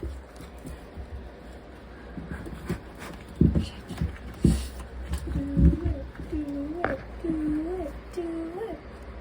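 Birds trapped inside a wall coo and call in short rising warbles, with knocks and scraping bumps from work on the wall, close and fairly faint, alongside brief human voice sounds.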